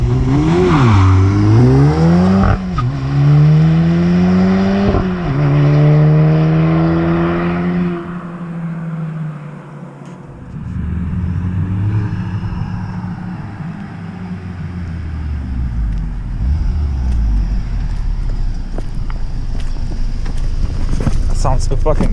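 Volkswagen Golf R with a Milltek exhaust revving hard, loud rising and falling engine sweeps that fade into wind rumble as the car moves away, with voices over it.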